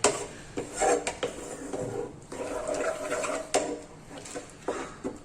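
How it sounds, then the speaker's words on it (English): Akuri eggs being stirred in a saucepan with a spoon, giving soft irregular scrapes and light clinks against the pan over about five seconds, close up with no talking. "stir it around in the saucepan"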